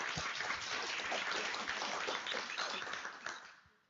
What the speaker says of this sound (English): we could also clap hands for the whole team involved in this organization.